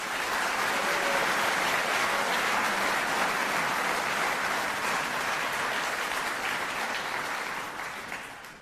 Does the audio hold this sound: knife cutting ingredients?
no